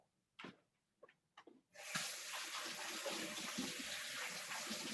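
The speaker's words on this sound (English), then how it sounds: "I've got to wash my hands. I'm gonna do that now." Tap water gushes steadily into a sink as hands are washed, after a few brief knocks and handling sounds at the start; the running water is close and continuous.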